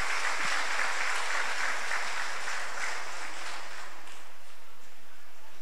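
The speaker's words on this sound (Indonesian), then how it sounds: "Mari kita tepuk tangan untuk kita semua." A crowd applauds at the inauguration of a Buddhist vihara in Tebing Tinggi, Meranti, with a steady, moderately loud wash of clapping that thins gradually toward the end.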